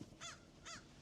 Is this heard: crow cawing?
yes